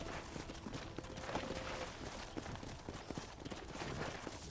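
Horse hooves clip-clopping in the video game Red Dead Redemption, a quiet, dense run of hoofbeats over a steady noisy background, without speech.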